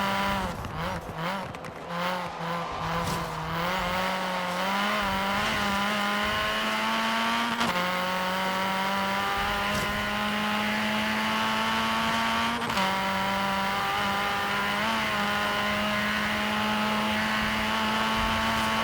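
A 2014-era F56 Mini Cooper S engine roars at high, steady revs with rising pitch across gear changes and a squeal from the front tires in Forza Horizon 3, loud and close.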